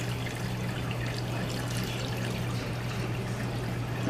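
Grease poured from a pan of smothered pork chops into a small grease saver container, a steady close trickling pour over a constant low hum, with no talk.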